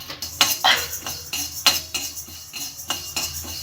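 Dry roasting urad dal in a pan, with repeated scraping and clinking strokes of a metal spoon against the pan at an irregular, close rhythm and no talk.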